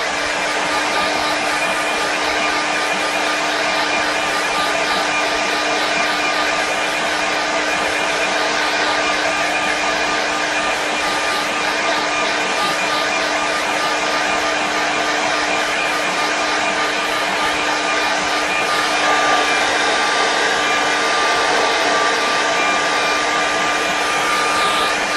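A handheld hair dryer blows steadily on a watercolour painting of a snow scene, a continuous loud whooshing drone with a fixed motor whine that runs unbroken and alone.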